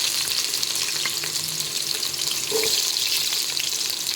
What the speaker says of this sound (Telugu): కాగినాక ఎర్రగడ్డ వేసేసుకున్నాం.